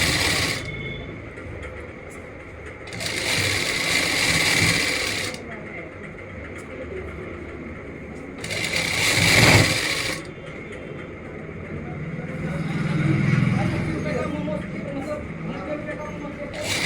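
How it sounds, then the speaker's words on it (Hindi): A sewing machine top-stitches pleats on a salwar in three separate runs of close, bright mechanical rattling, each several seconds long, with someone talking between and over them. "इस पर लगा देंगे बारीक करके और ऊपर की सिलाई"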